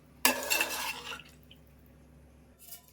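Rice and water for chicken pulao stirred in a pot: a brief, loud sloshing scrape lasting about a second, then near quiet with a faint stir at the end.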